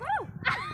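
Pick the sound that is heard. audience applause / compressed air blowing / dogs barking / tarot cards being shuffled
dogs barking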